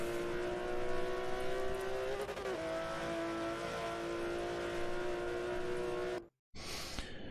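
Race cars lapping Mugello in Forza Motorsport 7 drone loudly with a steady high engine whine that shifts pitch briefly midway, cuts out abruptly near the end, then resumes.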